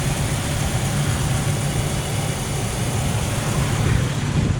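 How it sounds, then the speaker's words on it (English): A 2004 Ford Ranger Edge four-wheel-drive pickup truck's engine rumbles steadily at close range, a low, even exhaust drone with no clear revving surges. "We'll get some exhaust tones here."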